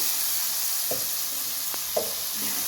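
Vermicelli upma with lemon juice added sizzles steadily in a pan while cooking, a soft continuous hiss broken by a few brief stirring scrapes and clunks, with no talking.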